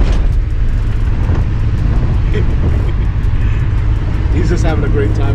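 A steady, loud road rumble and engine drone fill a car cabin on a Sunday drive with a dog aboard, continuous throughout with no clear voices.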